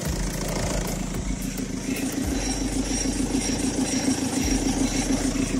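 A Citroën C3 Picasso 1.6 HDi 90 hp diesel, just fitted with a new clutch, idles steadily with an even, rapid clatter close by, alone and without talk.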